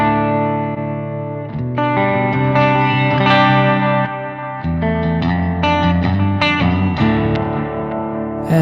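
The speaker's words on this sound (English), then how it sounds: "So I prefer the tape echo." An electric guitar runs through the tape echo effect of a Zoom G3X HD multi-effects pedal, playing sustained chords and notes whose repeats trail off behind them, loud and close, with no voices.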